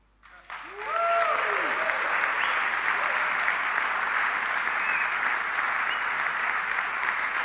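An audience applauding at an international software launch for ARCHICAD 20, clapping that swells quickly after a brief sound and then holds as a dense, steady wash of many hands.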